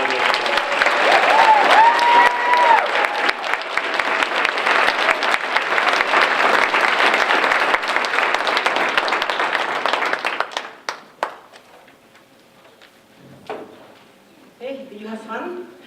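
Graduation audience applauding Associate of Arts degree recipients at an academic recognition ceremony: loud sustained crowd clapping with cheers, dying away into scattered claps and a few voices talking near the end.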